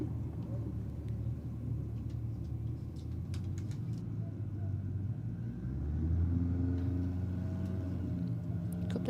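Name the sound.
drag racing cars, Datsun versus Falcon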